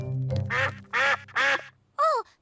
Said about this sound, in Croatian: To su patkice. Bog, patkice.